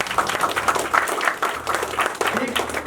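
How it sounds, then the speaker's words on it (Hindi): Audience applause at an engagement celebration, a steady wash of many hands clapping that runs through the whole stretch at moderate loudness, with a few voices mixed in. "ये सोच के लिए ताली।"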